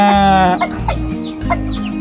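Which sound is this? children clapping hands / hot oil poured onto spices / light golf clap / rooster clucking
rooster clucking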